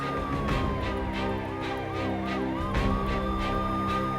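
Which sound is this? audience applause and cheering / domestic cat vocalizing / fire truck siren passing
fire truck siren passing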